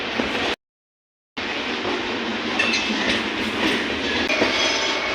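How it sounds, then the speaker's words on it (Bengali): The Howrah Raxaul Mithila Express rolls past with a loud steady rumble and rhythmic clatter of wheels, broken by a short gap of silence near the start. "হাওড়া রক্সল মিথিলা এক্সপ্রেস পাস করছে।"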